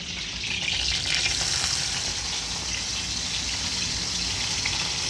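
Garlic sizzles hard in hot oil for rice preparation, a continuous bright crackling hiss heard up close with a slight swell near the start and some faint stirring movement, no voices over it.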